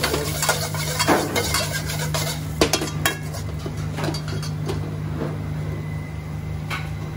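Prawns tipped into a pan of base gravy for a British Indian restaurant dish, with metal utensils scraping and clinking against the pan and a soft sizzle, close up, steady stirring without talk.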